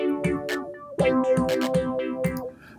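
An instrument in an Ableton drum rack run through an auto filter, a rhythmic pattern of punchy hits with pitched tones, about five evenly spaced beats with a filtered, sweeping timbre, no voices.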